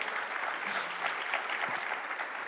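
Audience applause at a panel discussion, a full steady wash of clapping from a crowd, continuous and fairly close with no speech over it.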